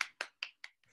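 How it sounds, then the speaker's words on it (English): One person clapping four times in an even rhythm, each clap a crisp, close slap, followed by a softer fifth tap. "I'll applaud."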